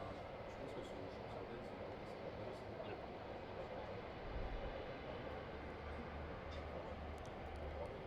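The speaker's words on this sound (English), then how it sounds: "Rumbling you can hear in the background are intercity trains." Intercity trains rumble past on a railway line close to a Bristol sports ground, a low, steady, distant drone that continues throughout under faint ambient sound.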